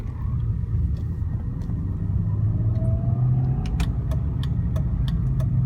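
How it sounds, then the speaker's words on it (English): 2001 BMW E39 525i inline-six engine pulling in second gear, a smooth steady low rumble that rises gently in pitch, with faint clicks and rattles over it. "So it does run like a BMW should, very smooth inline 6 action."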